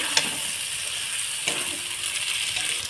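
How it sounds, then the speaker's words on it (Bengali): Spice paste and chopped tomato sauté in a pan for a banana-blossom and prawn dish, giving a close, steady sizzle with a few sharp stirring scrapes and no talking. "মশলাটাকে আমি ভালোভাবে কষিয়ে নেব এইভাবে"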